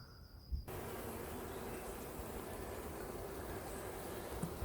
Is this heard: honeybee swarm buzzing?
yes